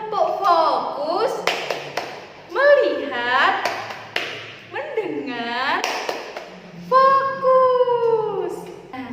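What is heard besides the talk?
rhythmic hand clapping game "tepuk fokus"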